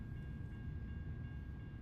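A train in American Truck Simulator rumbles past with a steady low, continuous roar, and a faint sustained horn-like tone sits above the noise.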